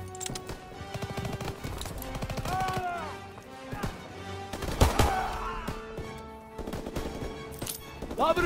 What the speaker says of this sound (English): Someone get on the MG!